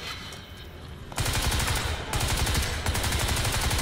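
Rapid bursts of automatic gunfire crackle loudly, stopping briefly and then resuming, with the dense rattle of a Crysis 3 firefight.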